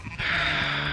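A sheep bleats on a farm, one sustained, fairly loud nasal cry that holds steady for most of the moment without any talk.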